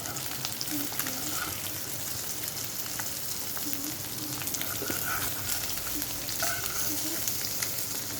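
Eggs frying in a pan with a steady, continuous sizzle, a few soft scraping touches as a spatula flips them, and a quiet voice in the background.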